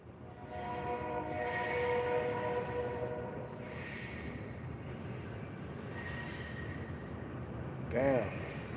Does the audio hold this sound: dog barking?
no